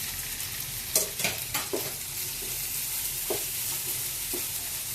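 Three tomatoes fry with ginger garlic paste for veg biryani, a constant close sizzle in a pan with a burst of quick spatula knocks and scrapes early on and a couple more later.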